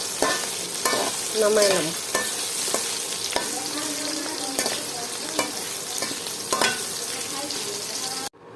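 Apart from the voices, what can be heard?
frying potatoes and onions together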